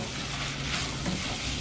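Small shallots sizzling in hot oil in a frying pan while being stirred for Kerala beef fry, a dense continuous crackle close up with scraping stir sounds, no voices.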